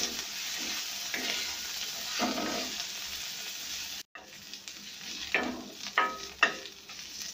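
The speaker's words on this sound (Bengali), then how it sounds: "কারণ এগুলোকে খুবই হালকা করে জাস্ট ফ্রাই করতে হবে।" Cabbage leaves fry lightly in a pan over a low flame for cabbage kheer, giving a soft, steady sizzle with occasional louder stirring scrapes toward the end.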